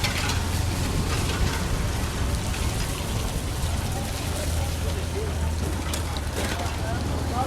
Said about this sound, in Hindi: बरसात का रुक कर झड़ी लगने का दौर जो है दोस्तों जारी है।